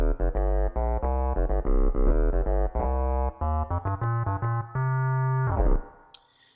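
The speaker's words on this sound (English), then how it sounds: "it's just an operator inside of an instrument rack and sounds like this" A synth patch from Ableton Live's Operator inside an instrument rack plays a run of bright, sustained harmonic notes with a deep bass, loud and clean, fading out at the end.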